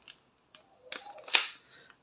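A WE 2011 Hi-Capa 5.1 Type K airsoft pistol test fired in semi-automatic mode, giving a few sharp, light snapping cracks spaced apart and heard fairly close in a quiet room.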